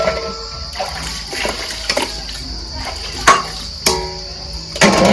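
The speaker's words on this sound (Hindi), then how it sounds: "पहले पुराना पानी में धो देता हूँ वो का बाद नया पानी में" Kitchen utensils are washed in a basin of water: sloshing and splashing with sharp metallic clanks of pots and dishes at irregular moments, close and fairly loud.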